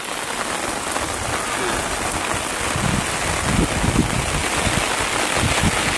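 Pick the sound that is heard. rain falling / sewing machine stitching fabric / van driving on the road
rain falling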